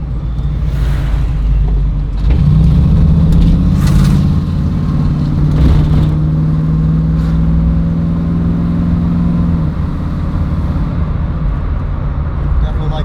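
A 1970 Fastback's engine rumbles and revs up during a test drive, steady and close inside the car, while someone talks over it.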